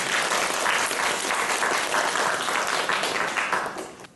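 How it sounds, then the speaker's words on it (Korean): A crowd at a Methodist seminary entrance ceremony, held in a church, claps in sustained, dense applause that stays loud for about four seconds before tapering off at the end. "박수로"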